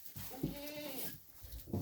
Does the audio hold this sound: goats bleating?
yes